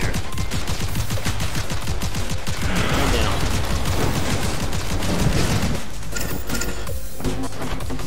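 Rapid, relentless gunfire from the rogue-like shooter game Seraph, with shots rattling in quick succession and heavy crashing impacts mixed in, loud and continuous throughout.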